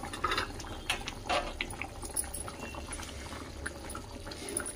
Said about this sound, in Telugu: ఉడుకుతుంది చూడండి, మంచిగా గ్రేవీ కూడా చిక్కగా అయిపోయింది